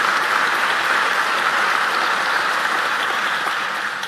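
Sustained applause from a crowd at a county State of the County address, steady and dense clapping throughout, tapering slightly at the end.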